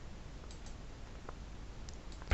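A computer mouse clicks a few times, soft and sparse, over a quiet background hiss.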